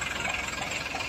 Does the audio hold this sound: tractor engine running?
yes